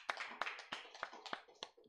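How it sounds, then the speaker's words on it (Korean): A congregation claps during a Sunday worship service at a Korean Full Gospel church, with steady, evenly spaced claps that sound faint and distant. "하나님께 영광의 박수 돌려드리겠습니다"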